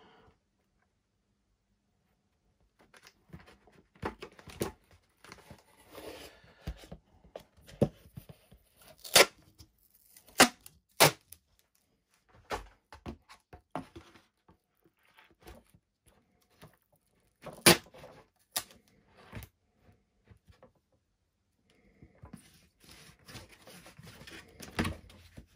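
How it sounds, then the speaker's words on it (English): Packing tape is ripped from the roll and pressed onto a foam board join during an FT Goblin RC plane build: sharp intermittent tearing rips and crinkles between quiet pauses, close and with no talking. "So we're going to be putting some more tape on the join."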